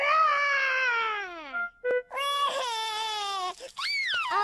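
Cartoon piglet George from Peppa Pig cries in a voice-acted performance: long, loud, descending wails with brief catches of breath between them, close and clear.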